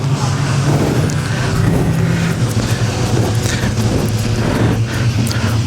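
Production sedan race cars thunder around Rockhampton Speedway during the Queensland title A-main, a dense, loud, continuous engine roar with overlapping drones from a pack of cars running close together.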